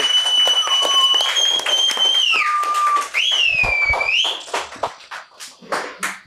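A studio audience applauds on a Turkish rap talk show, steady clapping mixed with sweeping whistle tones, then the clapping thins into scattered claps that fade out.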